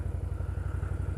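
An old Honda ATV fitted with Zilla tires rides past, its engine putting out a rapid, even low-pitched chugging pulse at moderate volume for a brief moment, with no talk.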